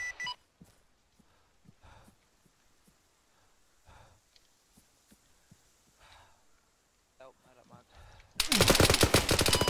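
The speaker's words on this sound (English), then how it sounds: "Shooting right over their heads." Gunfire in the military video game Arma 3, on a Manticore patrol ambush. Scattered faint shots and clicks give way to a loud, sustained burst of rapid automatic fire at the end.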